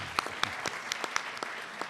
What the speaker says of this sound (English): We applaud you, Mike.